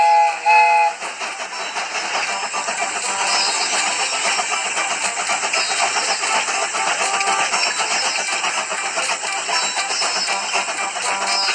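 A cartoon train engine chugs steadily as it departs, with bright whistle-like tones over a busy mechanical rumble, continuous and fairly loud throughout.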